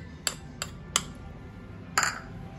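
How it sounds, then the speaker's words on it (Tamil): A spoon taps and clinks against a bowl while mixing gram flour with oil for Mysore pak, four sharp light knocks spaced unevenly over a quiet room hum. "இதை நம்ம மிக்ஸ் பண்ணிக்கலாங்க நல்லா"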